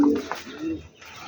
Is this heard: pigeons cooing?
yes